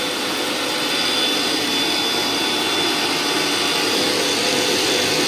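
A mixer grinder runs steadily in a home kitchen, a continuous loud whirring motor drone that holds even for the whole stretch with no voices over it.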